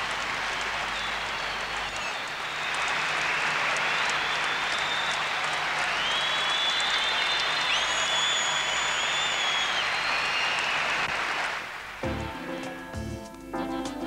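A packed stadium crowd of nearly 7000 spectators at a sports final in Scandinavia roars and applauds in a loud, continuous wash of cheering for about twelve seconds before it cuts away.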